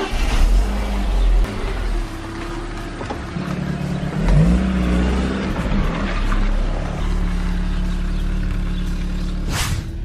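A drift car's engine idling cold close by, with a steady low rumble broken by a couple of sharp revs that rise and fall, then settling back to idle.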